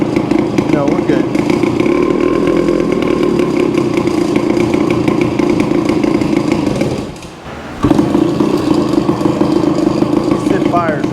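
A vintage Suzuki TC-90 motorcycle engine runs loudly up close with a rough, buzzing two-stroke clatter, briefly sags nearly to silence, then catches and roars back to a steady idle.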